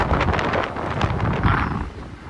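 Strong wind roars over the Krishna River at Vijayawada as a Puri Express train crosses the bridge, a loud, close, buffeting rush that rises and falls, with no talking.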